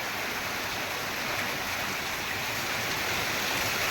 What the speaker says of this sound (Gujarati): આજનો વરસાદ જામ્યો છે